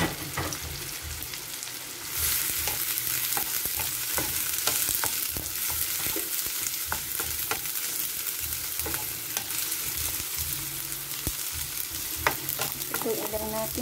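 Tomato and eggplant frying in a pan, a steady loud sizzle with frequent scraping stirs and clinks of the utensil throughout, close up and without talk.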